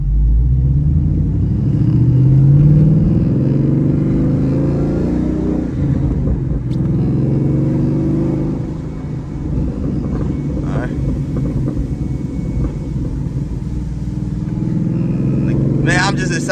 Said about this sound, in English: This car is too loud right now.